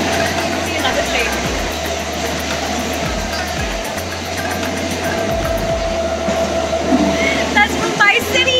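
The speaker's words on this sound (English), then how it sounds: "That's Mumbai City train traveling." A Mumbai commuter train rumbles along with steady low mechanical drone and rhythmic rail clatter, interior noise loud and continuous, with voices murmuring faintly underneath.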